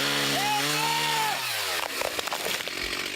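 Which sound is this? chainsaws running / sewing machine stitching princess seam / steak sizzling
chainsaws running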